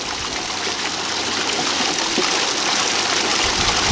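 Water rushes steadily through a Keene's 160 dry and wet washer used for concentrating black sands, a continuous close broadband wash of flow that swells slightly over four seconds with no speech.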